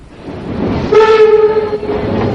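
Subway train effect in a Spanish-language suspense radio drama, as the carriage doors are about to close: rumbling background, then a loud, steady whistle-like warning tone for about a second before it fades back into the rumble.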